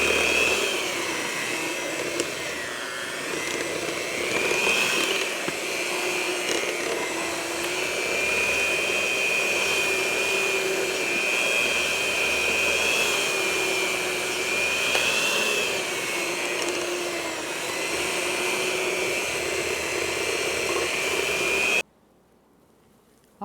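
An electric mixer whirs continuously while beating sesame seed cookie dough, a close, steady motor whine with slight wavering in pitch that cuts off abruptly near the end.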